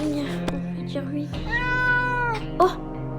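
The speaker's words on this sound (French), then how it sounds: "il est trop mignon le chat" A cat meows in a video game, giving several clear, close mews over a quiet background, with a short sharper call near the end.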